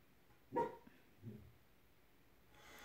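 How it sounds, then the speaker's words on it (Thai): A dog barks twice at a distance, one sharp bark followed by a softer one, against a quiet night background with no talk. "หมาอย่าหอนตอนนี้เด้อ"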